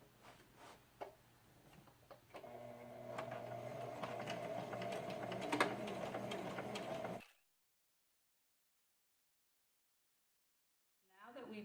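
A sewing machine hums steadily for several seconds while closing the opening in a bag lining for a slanted clutch, then stops and leaves silence; a voice speaks at the start.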